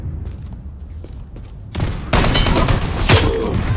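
Airstrike in the shooter game Dirty Bomb: quiet scattered gunfire gives way to a sudden loud barrage of explosions and rattling blasts that continues to the end.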